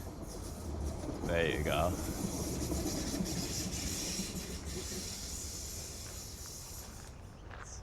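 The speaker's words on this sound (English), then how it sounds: "I can hear a tram, a light rail coming by." A tram on a light rail line rolls past in a city backstreet, a broad rumbling swell that builds and slowly fades, with a brief spoken remark near the start.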